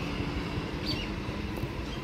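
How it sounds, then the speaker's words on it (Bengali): Steady low rumble of a moving train carriage during a ride on a lightly crowded holiday service, continuous broadband rolling noise with faint higher squeaks, no talking. "ওই জন্য ভিড় কম ট্রেনে।"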